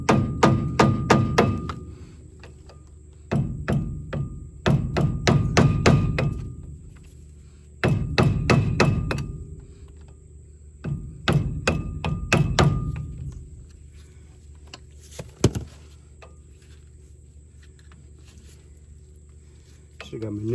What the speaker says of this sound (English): This hammer is a little bit overkill,